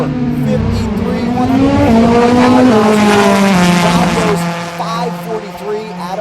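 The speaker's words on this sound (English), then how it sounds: "Here comes that turbo bike, top end, Win Light NITROUS bike" Drag racing motorcycles, including a turbo bike and a nitrous bike, scream down the strip at high revs, a loud sustained engine roar with shifting pitch that fades toward the end under an announcer's commentary.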